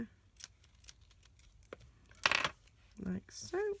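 Scissors snip through paper for a masculine gift bag, with a few sharp crisp cuts and rustling among quiet handling noises near the end.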